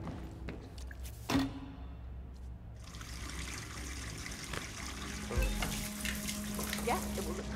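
A running water tap in Hitman 2 gives a faint steady trickle that grows fuller partway through, with clicks and a low hum of game ambience beneath it.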